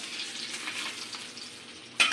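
Potatoes frying in oil left over from frying fish, giving a steady crackling sizzle close by, with a sharper burst of spitting near the end.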